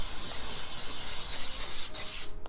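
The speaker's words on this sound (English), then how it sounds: "spray the inside of the springform pan liberally with this spray" Nonstick baking spray hisses steadily from a can as the inside of a springform pan is coated liberally, one continuous close spray that cuts off near the end.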